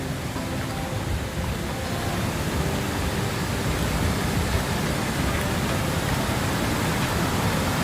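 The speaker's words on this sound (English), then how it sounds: "That's the river out there, guys." A flooded river in Mount Lebanus, St Thomas, roaring after heavy rain, a steady broad wash of rushing water, loud and unbroken from start to finish with no talking.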